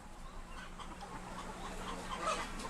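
Hens and roosters on a farm breeding flock that lays fertilized eggs for vaccine production, clucking softly and continuously against a steady barn background hum, with no talk.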